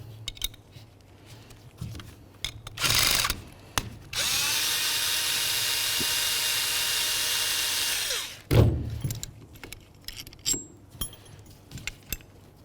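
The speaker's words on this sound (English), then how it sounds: "I'm going to remove the nut here." A power drill or driver with a 7mm socket spins nuts off the ignition coil bracket of a 1992-99 GMC K1500: a short whir, then a steady loud run of about four seconds, among close clinks of tools and parts.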